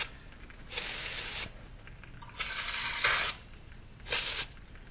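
Pressurized brake cleaner sprays onto a greasy brake rotor during 4WD wheel bearing maintenance, three loud hissing bursts, the first two long and steady, the last short, close up with no talk.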